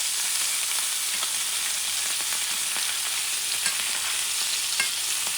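Steak sizzles steadily in a hot frying pan with rosemary while a spoon bastes it, soft scrapes and taps poking through the continuous close, fairly loud frying hiss.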